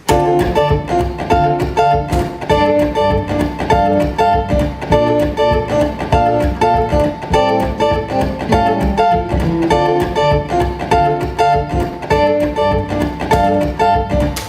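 Short, punchy guitar chords struck in a steady, bouncy rhythm, played loud and close with no voices.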